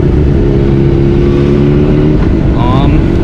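A Honda CBR600RR 600cc sport motorcycle engine runs loud and close, a steady humming drone with a rising whine near the end, and a voice talks briefly over it.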